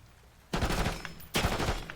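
Two short bursts of automatic rifle fire in the shooter game Black Ops 6, each a quick loud cluster of rapid shots separated by a brief quiet gap.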